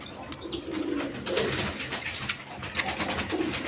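Pigeons coo repeatedly in a loft, with low rolling calls overlapping one another at a moderate distance amid a busy, steady background din.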